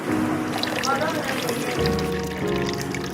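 Water pours steadily from a homemade dispenser built from recycled wood board and scrap, a continuous trickling stream running under nearby voices and background chatter.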